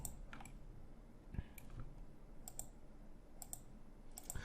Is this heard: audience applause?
no